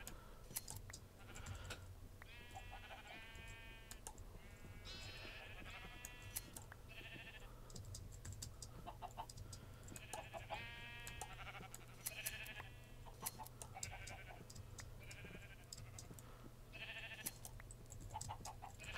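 Sheep bleat repeatedly on a Minecraft sheep farm, several overlapping calls scattered across a steady low background hum with faint clicking.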